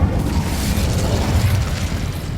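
A fiery Incendio spell bursts out in Hogwarts Legacy, a loud, dense roaring whoosh of flame that holds steady for a couple of seconds with no break.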